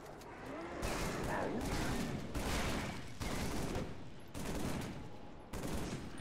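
Burst-fire weapon shots in Halo 3 come in several loud, evenly spaced clusters, each a tight volley lasting under a second, with brief gaps between bursts and a faint voice underneath.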